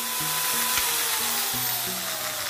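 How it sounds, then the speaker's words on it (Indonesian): An electric grinder runs on a household power supply, whining steadily at a high pitch and filling the clip with a constant broad hiss, close and alone. "Saya hidupkan gerenda."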